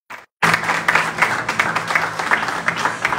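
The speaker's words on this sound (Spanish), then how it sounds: "Tome su asiento y déle un fuerte aplauso." A church congregation claps loudly after a brief cut, dense steady applause that continues for about three seconds with a faint voice beneath it.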